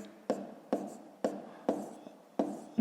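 Digits written by hand for a 5th-grade math exercise: a regular run of about six close, sharp tapping strokes, quiet and evenly spaced, with no voices over them.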